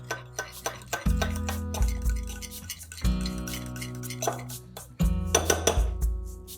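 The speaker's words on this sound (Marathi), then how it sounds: "2 टेबलस्पून दही छानपैकी मिक्स करून घ्यायचे" Spoon clinking and scraping against a bowl while curd is mixed for a chutney, quick repeated taps in bursts over a steady musical background, close and clear.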